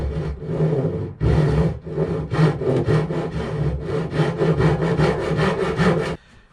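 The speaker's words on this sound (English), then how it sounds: "I'm ready to take this down with a saw" A hand saw cuts wood for dovetail joints, steady rhythmic rasping strokes close by, about a dozen back-and-forth passes that start slowly and then settle into an even pace before stopping.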